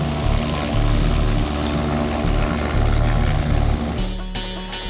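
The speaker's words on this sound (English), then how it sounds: "a second police helicopter is being scrambled" A police helicopter flies close overhead, a loud, droning rotor thump and turbine whine dominating throughout, with the low beat shifting slightly near the end as it passes.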